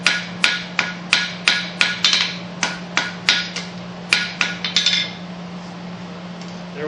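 A knife blade being forged on an anvil takes a rapid series of about fifteen sharp, ringing hammer blows, loud and close, with no talking, while a steady low hum runs underneath.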